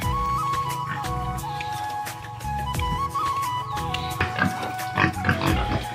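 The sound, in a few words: pigs in pig farm pens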